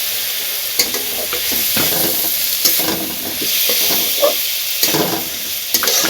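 Corn kernels fry in hot oil with a steady sizzle, while a utensil stirs and scrapes the pan at intervals and brief clicks and pops rise above the hiss.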